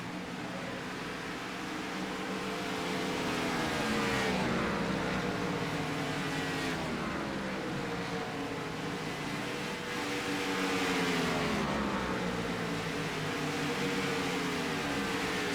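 Gen 4 race cars in a racing video game at Motegi whine past in a continuous engine drone, pitch rising and falling as cars shift and pass, loud and steady with no voices.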